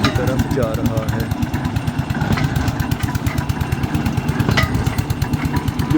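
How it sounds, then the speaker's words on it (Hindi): A tube well boring machine in Pakistan drives pipe into the ground with a fast, steady mechanical chugging pulse, close and continuous, while someone talks over it. "वो जो तेज़ पाइप है ना वो नीचे ज़मीन को आहिस्ता आहिस्ता खोद रहा है"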